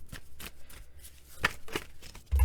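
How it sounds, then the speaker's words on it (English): A deck of handmade tarot cards gets shuffled by hand in a series of soft riffling and slapping bursts, close to the microphone. A sharper tap closes the sequence. "these are also my handmade cards here. So they're not the best to shuffle"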